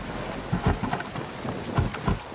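Heavy rain with rolling thunder in the video game Ghost Recon Wildlands, a steady downpour hiss with two deep, rumbling thunder swells rising and fading, heard without any voices.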